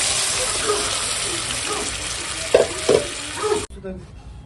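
Masala frying in a pan as boiled peas are added, a close steady sizzle broken by spoon scrapes and a few sharper knocks, then cutting off abruptly near the end, with a voice speaking briefly.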